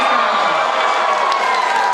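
A wild crowd roars and cheers continuously around a one-on-one breakdance battle, a loud, dense wash of voices with no break.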